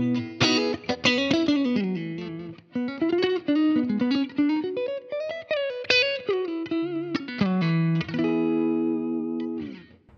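Electric guitar played through a Line 6 POD HD500X with a Blue Comp compressor and plate reverb, a sustained melodic lead line of bent, gliding notes that ends on a ringing held chord, heard alone.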